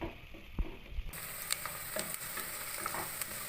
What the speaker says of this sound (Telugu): ఇలా మనకు గోల్డ్ కలర్ వచ్చేదాకా కలుపుకోవాలి.